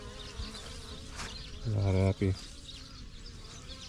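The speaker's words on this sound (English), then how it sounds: "There's quite a lot of bees right here, actually." Honeybees buzz around hives in an almond orchard, a steady insect hum under a brief spoken phrase, with a louder tonal drone passing close by for a moment.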